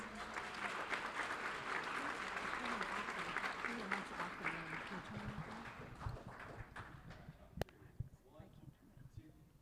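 Applause from the audience at a Fort Worth ISD school board meeting honoring a girls' track team, steady dense clapping for most of the stretch before thinning out near the end, with voices talking beneath it.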